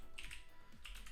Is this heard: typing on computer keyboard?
yes